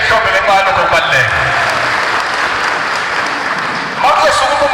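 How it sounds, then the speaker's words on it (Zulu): Applause from a crowd gathered at a family memorial and funeral event for Dr Dlamini, loud and steady for several seconds with voices mixed in underneath. "Anisha ihlombe lenqalo kokubaluleka."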